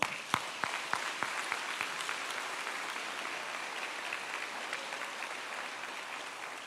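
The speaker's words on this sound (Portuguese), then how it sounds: "Aplauda Jesus." Congregation applauding Jesus during a church service, opening with a few sharp separate claps before swelling into a steady, fairly soft wash of many hands.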